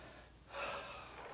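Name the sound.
heavy breathing during weight training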